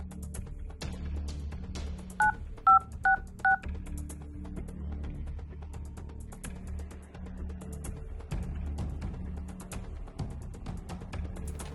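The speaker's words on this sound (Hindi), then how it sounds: "आप फ़ोन मिलाइए" A telephone number is dialed on a keypad, with a quick run of about six clear DTMF beeps near the start, heard over low room hum without talk.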